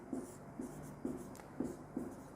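Chalk writes on a board during a chemistry lecture, giving five evenly spaced short scratchy strokes, faint and close against a quiet room hum.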